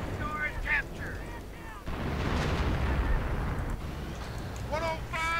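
Artillery shells burst repeatedly in a WWII real-time strategy game battle, with a Panzer IV tank retreating as more artillery is called in, a dense rumbling barrage of blasts and crackle running loud throughout alongside other battle effects.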